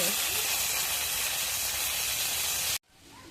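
Fish frying in a pan gives off a loud, steady, hissing sizzle that fills the air, then cuts off abruptly and leaves a much quieter background.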